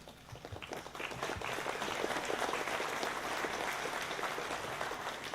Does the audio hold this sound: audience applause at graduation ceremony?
yes